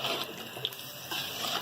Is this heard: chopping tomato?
no